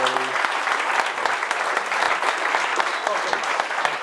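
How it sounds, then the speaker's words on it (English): Sustained audience applause at a tech meetup of lightning talks, many hands clapping steadily and fairly close with a few sharper individual claps standing out. "Let's give these guys a round of applause."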